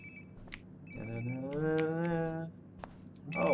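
A cell phone rings in the video game Life Is Strange Before the Storm, several repeated electronic ringtone bursts over a quiet game background, with a brief voice-like swell in the middle.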